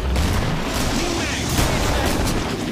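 Grenade explosions and gunfire in the video game Killing Floor make a dense, loud burst of booming blasts that run together across the whole stretch, with some talk mixed in.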